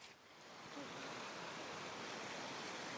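Forest waterfall in Georgia, a steady broadband rush of falling water that swells slightly at the start and then holds constant, moderately close and without voices.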